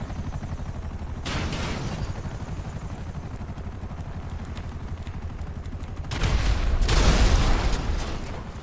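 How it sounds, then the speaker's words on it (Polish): A loud explosion bursts out during a GTA RP roleplay session, a heavy boom that swells and rumbles for a couple of seconds near the end, with an earlier burst and gunfire-like crackle over continuous game noise; no talk. "O kurwa, coś wybuchło."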